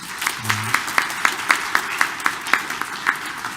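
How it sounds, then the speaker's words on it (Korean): Rhythmic clapping from a church congregation at a Korean Catholic Sunday Mass in Detroit, an even beat of about four claps per second, moderately loud, with a brief vocal sound near the start. "우리 다시 한번 이분들을 위해서 감사 박수 한번 보내드릴까요?"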